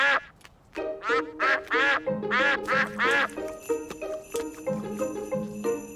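A cartoon duck, Mrs. Duck from Peppa Pig, quacks by a frozen, icy pond in a burst of loud, close quacks, then lighter tinkling music tones carry on underneath.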